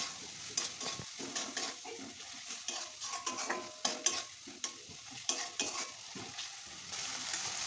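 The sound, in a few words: stirring and sautéing spices with salt and turmeric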